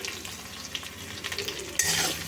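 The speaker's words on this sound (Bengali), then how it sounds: "নুন দিয়ে এগুলো সব একসাথে মিশিয়ে আবার একটু ভেজে নেব" Pumpkin chhokka frying in a pan with salt added, a steady sizzle under repeated scraping strokes of a spatula as it is stirred, the sizzle swelling louder near the end.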